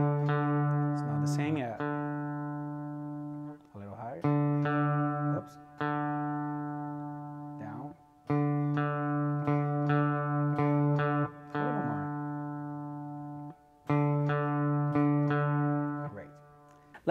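A guitar string is plucked repeatedly, its pitch shifting slightly between plucks as it is adjusted, with short gaps between groups of notes.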